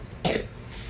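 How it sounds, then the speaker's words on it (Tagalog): A single short, sharp cough from a person close by at home, standing out briefly against a quiet room with no talking. "Pag-ibigay na kami ng ubo."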